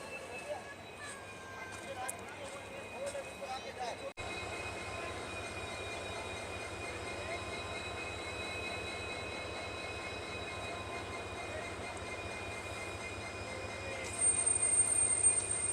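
A locomotive pulls away after being uncoupled from its passenger train at a desert terminal station, a steady low engine rumble and rail noise continuing throughout, with a faint high squeal near the end and voices talking over it.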